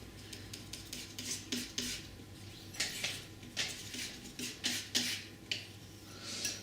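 A palette knife mixes white, ultramarine and a touch of red paint, giving soft, close scraping and tapping strokes in an irregular rhythm against a quiet background.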